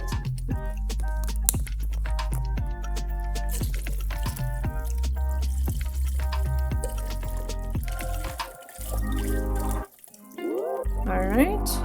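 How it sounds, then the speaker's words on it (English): Chicken broth poured from cartons into a soup pot on the stove, a continuous liquid pouring and splashing under background music, ending with a brief clatter. "And then we're going to add in our chicken broth, which is 2 of these bad boys."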